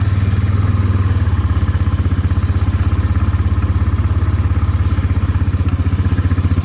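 A farm ATV engine chugs loudly and steadily at close range during a ride in southeast Indiana, with an even, rhythmic low putter and some mechanical clatter, and no voices over it.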